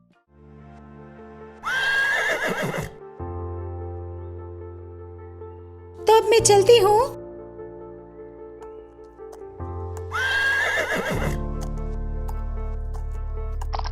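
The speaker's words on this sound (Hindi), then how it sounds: "ये मैजिकल हॉर्स कहीं पर भी चल सकता है" A horse whinnies loudly twice, with a sharp squeal between, over steady background music, with clip-clop hooves mixed in, and someone speaks briefly in the middle.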